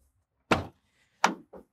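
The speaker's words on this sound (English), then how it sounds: "So I'm gonna open these doors up" The rear doors of a Coachmen Beyond 22C camper van make two solid thuds and a lighter knock in quick succession as they are unlatched and swung open, fairly close and with no talking.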